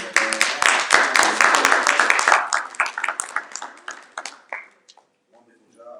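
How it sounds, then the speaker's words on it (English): At the 2024 CP Black History Program, the audience gives a short round of hand clapping that starts full and close, then thins into scattered claps and dies out, with a voice briefly following. "Give a round of applause for everybody."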